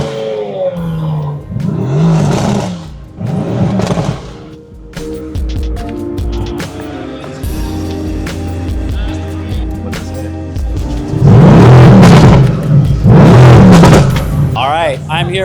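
Exotic supercars, including Lamborghini Aventador SVJs, Maseratis and a Bugatti, rev their engines at a parade at a race circuit in Austin, with repeated loud roaring bursts and a steady car rumble, and someone speaking over them.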